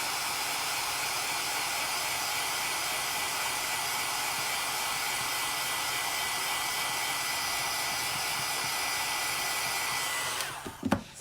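A hair dryer blows steadily and loudly for about ten seconds to dry a dollar-store craft piece, with no talk, then switches off with a brief clatter at the end.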